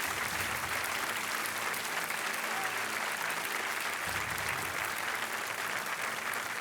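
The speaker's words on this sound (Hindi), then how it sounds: "तालियां बजती रहनी चाहिए" Dense, continuous applause from a studio audience on the KBC quiz show set, a thick wash of many clapping hands held at an even level throughout, with no voices over it.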